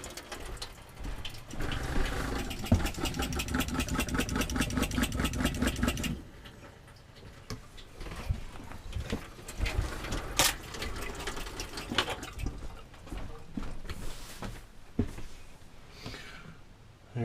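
Motorhome water pump on a GMC motorhome, freshly primed, buzzes in a steady rapid pulsing drone for several seconds, then cuts out; scattered clicks and handling noises follow, no talking.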